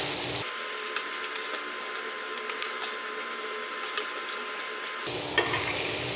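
A spoon scrapes and stirs as coriander is mixed into a frying vegetable dish of cluster beans, soft repeated scraping over a steady sizzle, close by with no talk.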